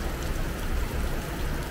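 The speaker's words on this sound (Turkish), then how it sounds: "Kuvvetli bir yağış yağıyor." Heavy rain pouring down in a steady downpour, a dense, continuous hiss of water heard close and fairly loud, with no voices over it.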